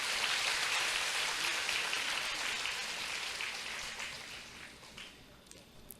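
Audience applause filling a hall at the inauguration of a Brahma Kumaris meeting hall, a dense, steady clatter of many hands that holds loud for several seconds and then slowly thins out.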